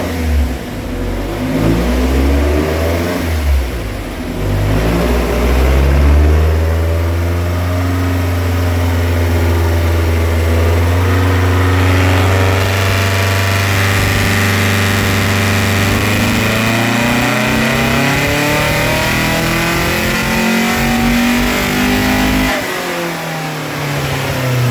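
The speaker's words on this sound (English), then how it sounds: "try and rev it out a little bit more" A Porsche drag car's engine revs hard and climbs through the gears, each pull rising in pitch before dropping at the shift, loud and close for the whole run with no talking.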